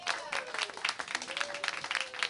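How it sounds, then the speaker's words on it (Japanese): Audience applause at a live concert in Tokyo after a performance, a brisk, even wash of clapping with a faint tonal sound drifting underneath. "改めて大きな拍手をお願いいたします。"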